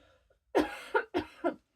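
Two quick pairs of coughs, close and fairly loud, each a sharp burst followed by a smaller one, after a brief quiet moment.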